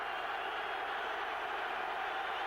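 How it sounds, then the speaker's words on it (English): Steady roar of a stadium crowd at a 1998 Buffalo Bills vs St. Louis Rams NFL football game, a continuous broad wash of noise with no breaks, loud and even throughout. "And a crowd roaring against you"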